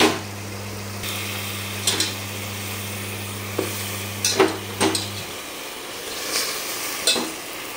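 Chicken pieces sizzle in a spiced pan for chicken biryani, a steady fry with a low hum through the first five seconds and scattered clinks and scrapes of stirring throughout.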